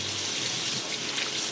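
Range hood filters rinsed under a steady stream of running water, a continuous close hiss and splash with no pauses.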